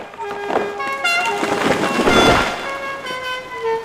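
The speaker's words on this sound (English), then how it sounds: "Then suddenly, there is a loud honking noise." A car horn sounds in an audiobook sound effect, a series of tonal honks and toots at moderate loudness, heard alone without speech.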